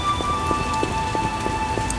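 Steady rain pours down in The Witcher video game, a dense continuous hiss of drops pattering on surfaces with no talk over it.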